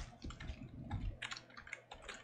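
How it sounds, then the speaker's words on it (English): Computer keyboard typed on in quick irregular bursts of close, crisp key clicks with brief pauses, no voice over them. "And now here we need to type CPU"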